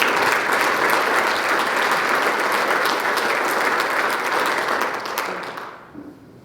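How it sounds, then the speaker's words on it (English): A crowd at a high school football awards night claps loudly and steadily, then the applause tapers off and fades out at the end. "All right, round of applause for the defense."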